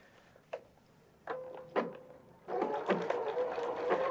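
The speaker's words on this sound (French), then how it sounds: "Alors, je vais commencer à coudre." Sewing machine stitching a garment hem: a few isolated clicks and clunks as the needle is set, then the motor starts into a steady, fairly quiet mechanical whir of stitching close by.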